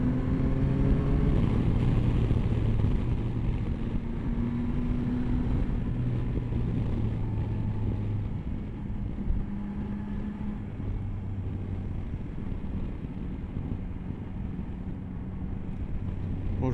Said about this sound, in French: j'ai l'impression d'avoir limite plus de bruit de vent sur le casque